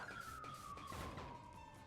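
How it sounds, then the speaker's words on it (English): A distant siren wails outside a house at night, a single faint, steady tone drifting slightly downward in pitch over a low background. "Was that a siren?"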